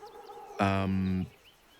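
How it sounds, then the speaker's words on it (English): A bird gives a single short call in the Baldur's Gate video game, a clear, fairly loud harmonic cry lasting under a second that stands out alone against quiet background ambience. "Well, these must be important birds indeed, Mr. Dakarios."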